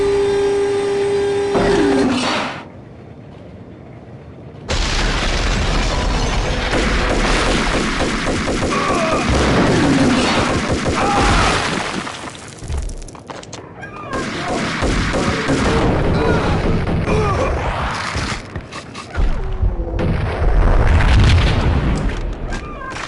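Explosions and gunfire from an M79 grenade launcher in the video game Max Payne, loud, dense bursts of booms and crashes running almost continuously after a brief quiet gap near the start.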